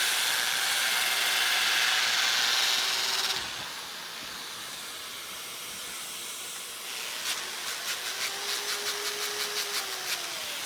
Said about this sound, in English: I'm normally sand in both directions, and I'll go through all the grits.